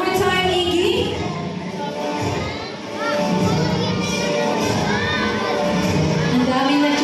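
A lively crowd of children and adults cheers and shouts at a safari zoo show, a dense, sustained roar of mixed voices and whoops that dips briefly before rising again.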